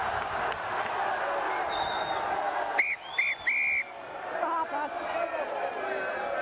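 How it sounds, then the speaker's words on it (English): Referee's halftime whistle at a schools rugby match between St. Michael's and Belvedere College: a few short, shrill blasts rise over a murmuring crowd and field noise. "Referee blows the halftime whistle."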